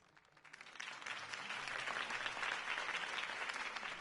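A crowd breaks into applause that swells after a quiet start and holds steady as dense, sustained clapping.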